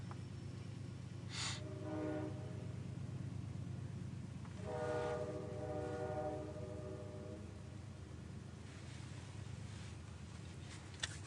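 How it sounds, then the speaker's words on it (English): A train rumbles steadily past while its horn sounds twice, a short blast followed by a longer one, over a continuous low rail rumble, fairly distant and without voices. "Let the train do what the train does."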